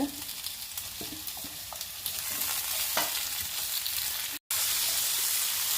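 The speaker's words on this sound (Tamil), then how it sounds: "நல்லெண்ணெய் ஊற்றிட்டு வெங்காயம் தக்காளி நல்லா போட்டுக்கோங்க" Onion and tomato sizzle in sesame oil for an idli-dosa chutney, a steady close frying hiss with a few spoon scrapes, cut off by a brief gap before the sizzle resumes.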